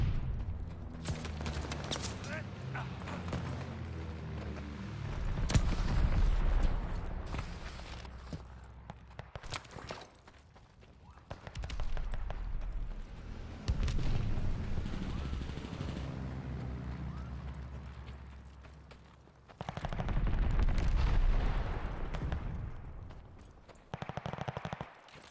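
A friendly bombing run in the Call of Duty Vanguard video game, with rapid machine-gun fire, rumbling blasts and footsteps in a busy team deathmatch, loud bursts rising and falling over the stretch.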